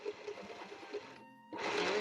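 A domestic sewing machine stitches a tag onto a junk journal page in a close, steady whirring run, pauses briefly, then resumes louder and faster.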